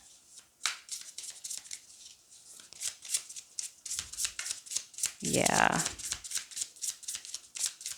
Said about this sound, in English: This is definitely one of those decks that are going to be easier to shuffle